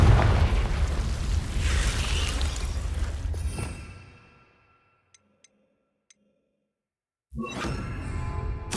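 A Confringo fire spell from Hogwarts Legacy blasts loudly with a rushing boom that fades into near silence, followed by a few faint ticks and then another sudden surge of noise.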